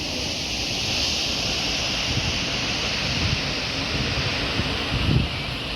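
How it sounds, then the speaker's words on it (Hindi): The Chitrakoot waterfall in Chhattisgarh roars in a steady, broad rush of falling water. It is heard from nearby and runs continuously without any talk. "बहुत ही बढ़िया वाटरफॉल है।"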